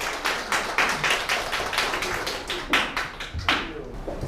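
A small audience at a district education forum gives brief, fairly sparse applause, with scattered individual claps rather than a full roar, heard alone.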